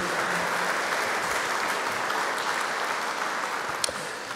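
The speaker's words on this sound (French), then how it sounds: "Je crois qu'on peut vous applaudir." A conference audience applauds a round-table panel at the 31st Forum Aditel, steady dense clapping that fills the room for several seconds with no talk over it.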